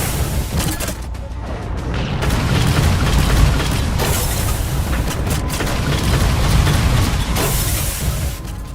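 Railgun fire and explosions bring down Phantom dropships in Halo 4, a dense run of booming blasts and bursts rolling on without pause, loud and heavy, with no voices.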